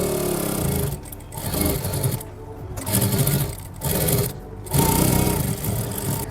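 Sewing machine stitching a suit neckline in several runs, its rapid whirring clatter starting and pausing repeatedly, close and steady.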